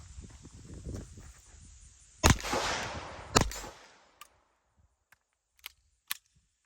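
A Sig P322 pistol fires Remington Gold Tip rounds outdoors at a range: two loud sharp reports with a short decay, followed by several fainter, scattered clicks and pops.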